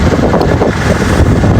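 Wind blows on a road in Dharan, Nepal, a loud close rumble buffeting the microphone.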